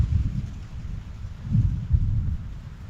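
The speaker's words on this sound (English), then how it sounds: "that thunder is getting a little bit closer, so I need to get out of here before I get struck" Thunder from an approaching storm rumbles low and steady through the clip, swelling into a couple of heavier rolls midway, with faint wind and rain texture behind it and no talking.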